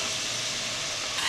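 Sliced large onions sautéing in a pan, a steady broadband sizzle with light stirring, close and continuous, with a brief scrape or clatter near the end.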